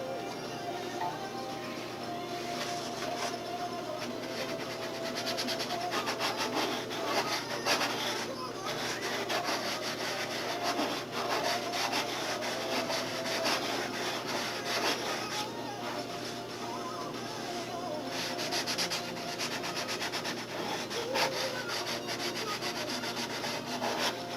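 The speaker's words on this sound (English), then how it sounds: "What you do, you sand right up into the tape." Continuous rhythmic rubbing of sandpaper on a model airplane canopy, worked right up to masking tape, a close, steady scratchy sound with slight pauses, while someone talks intermittently.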